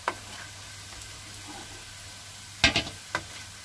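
Onion kodubale, ring-shaped snacks, fry in hot oil with a soft, steady sizzle close by, broken by a few sharp clinks and scrapes of a slotted spoon stirring and lifting them, with no talking.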